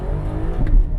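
Maserati with a new clutch accelerating hard, a loud close engine roar with a deep rumbling growl rising briefly over about a second.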